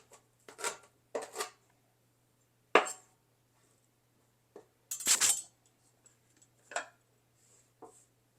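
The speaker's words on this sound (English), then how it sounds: "just going to go through, cut it into smaller chunks" A knife chopping pork belly into smaller chunks on a board: scattered sharp knocks and scraping cuts, some single and some in quick pairs, close and fairly quiet with pauses between them, over a faint steady hum, no talking.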